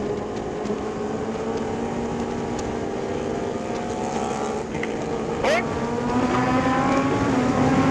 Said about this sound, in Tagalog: Truck! Oy, truck.